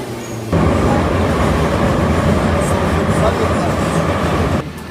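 An old metro train in Batumi, Georgia, heard from inside a carriage: a steady, loud rumble of wheels and motor rolling along the track, starting abruptly after a moment of quiet and continuing evenly before easing off at the end.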